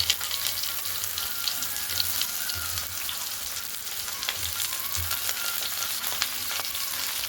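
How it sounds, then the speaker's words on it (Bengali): Potato and eggplant frying together in a pan give a steady, dense sizzle throughout, with faint crackles and a low background hum, and no talking. "কেটে রাখা বেগুনটাকে ভালো করে ধুয়ে নিয়ে বেগুনটা হালকা করে ভাজতে হবে"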